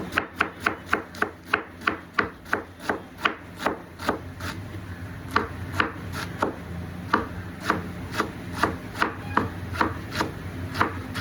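Carrots sliced lengthwise with a knife on a cutting board, a steady run of crisp chopping strikes, about two per second, close and loud with no voices.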